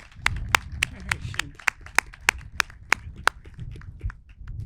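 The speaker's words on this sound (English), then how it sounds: "Let's give the board a huge round of applause." Scattered, sharp hand claps from a small group at a training center dedication ceremony honoring a board, about a dozen distinct claps in an uneven rhythm over low murmuring voices.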